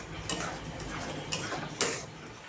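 Chopped prawns stirred through potol dorma filling in a pan, giving soft scraping and light clinks of the spoon against the pan, with a few sharper taps among steady low kitchen noise.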